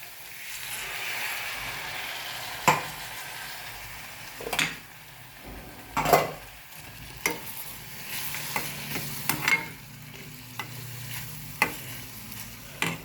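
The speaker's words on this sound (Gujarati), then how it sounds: "તો આપણે આમાં થોડુંક પાણી રેડીશું" Water is poured into a pan of roasted peanuts, and the pan sizzles and steams with intermittent stirring scrapes and bursts of hissing over a quiet background.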